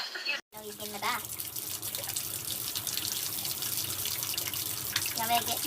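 A kitchen tap runs steadily into a sink while a cat paws and swats at the stream, a continuous splashing hiss with brief louder splashes.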